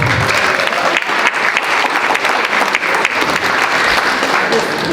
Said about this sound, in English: Now can you all give yourselves a round of applause?